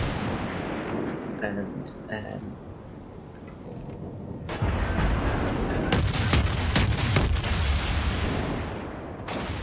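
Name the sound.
naval gunfire in World of Warships video game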